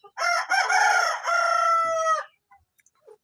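A Columbian Bahama rooster gives a single loud, close crow lasting about two seconds, followed by a few faint clucks.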